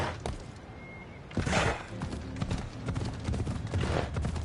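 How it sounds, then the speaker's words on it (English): Horse hooves clip-clop in a PS4 video game, a run of close, irregular thudding steps that grows busier and louder after the first second, with no talking. "I need to take this horse to either Adonis or to the stable boy"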